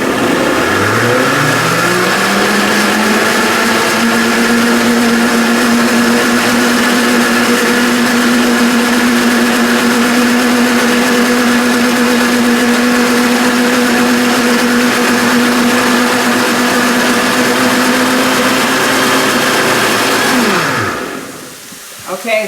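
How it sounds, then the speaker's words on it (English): Blender pureeing tomato spaghetti sauce, a loud steady motor whine that spins up at the start, holds for about twenty seconds, then winds down and stops. "Close it down, and I am going to puree it."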